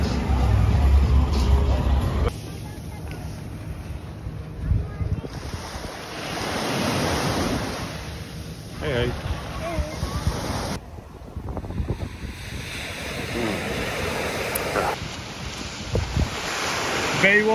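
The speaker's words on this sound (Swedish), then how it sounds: "Ja, skön strand." Ocean waves wash onto Unawatuna beach in Sri Lanka while wind buffets the microphone, a steady broadband roar of surf that swells and eases, with brief voices talking in the background.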